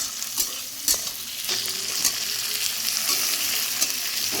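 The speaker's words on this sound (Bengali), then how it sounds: "সব মশলাগুলো সুন্দর করে ভাজা ভাজা করে নিয়ে একটা পেস্ট বানিয়ে নিতে হবে।" Spices, with green chillies among them, fry and sizzle in a pan with steady hissing and occasional stirring scrapes and clinks, close and continuous with no talk.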